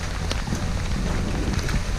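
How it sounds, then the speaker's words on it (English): Heavy rain falls at a flooded campsite during a round-the-world cycling trip where wind has broken the tent. A dense, continuous, close rush of noise runs throughout, and a voice may be faintly present beneath it. "It's raining like no tomorrow"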